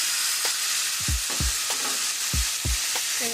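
Diced tomatoes, tomato sauce and kidney beans stirred together for a chili mac bake, with a steady frying sizzle beneath several low scraping sweeps of a spoon through the thick mixture, no talking.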